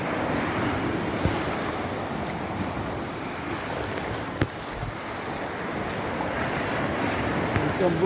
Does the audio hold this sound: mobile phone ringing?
no